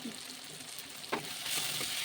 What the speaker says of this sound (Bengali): আদা বাটা দিয়ে ভেজে নেব